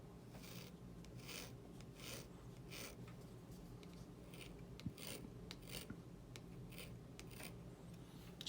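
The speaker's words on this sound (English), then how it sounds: "I wonder if lightly scratching the sticker would help." Light fingernail-like scratching at a Star Wars Retro Collection sticker label on card packaging, a close series of short, dry scraping strokes in uneven rhythm, quiet and alone.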